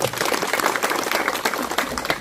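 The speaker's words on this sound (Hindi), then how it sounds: "आप लोग एक बार अपने लिए ताली बजा लीजिए" A crowd of villagers in Jharkhand claps together at an outdoor gathering, dense and sustained applause filling the whole moment, fairly loud and steady throughout.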